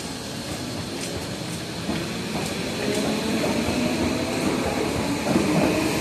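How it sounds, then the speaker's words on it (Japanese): A Tokyo Metro 13000 series train rolls into a station platform, its steady rumble and wheel clatter building slightly louder as it arrives, with no talk over it. "駅停車北越谷行きが8両編成で参ります。"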